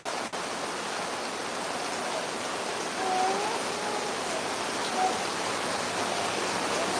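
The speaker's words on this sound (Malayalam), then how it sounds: "നാട്ടിൽ നല്ല മഴയുണ്ട്" Heavy rain falls steadily in a hometown village in Kerala, a dense, even hiss with no pauses, loud and close throughout and free of talk.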